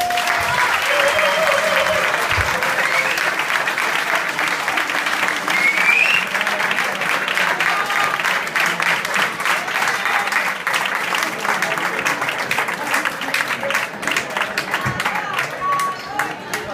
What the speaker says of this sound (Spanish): quiero que les deis un fuerte aplauso